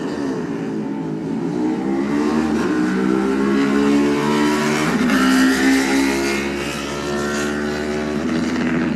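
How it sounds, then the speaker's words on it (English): A classic Honda racing motorcycle pulls away from the TT start line, its engine revving hard through rising gear changes, loud and close, then fading slightly as it leaves. "under the arch is the John Chapman Racing Honda of Daniel Sale, and he's away"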